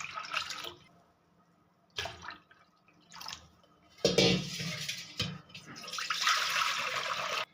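Water from a cooking pot is poured into another pot in several splashing bursts, the last pour longer and steady, heard close in a kitchen while cooking a traditional Maharashtrian jaggery wheat porridge.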